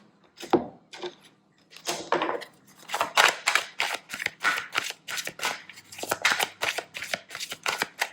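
An oracle deck is shuffled by hand in quick bursts of crisp card riffles and taps. The sound is close and irregular at first, then turns into a steady run of snaps, with no voices.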